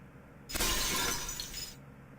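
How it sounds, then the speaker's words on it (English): Glass shatters in the video game Fate/Extra: one sharp, bright breaking crash that rings for about a second before cutting off cleanly, heard alone. "The sound of breaking glass is accompanied by a light cutting through the gloom."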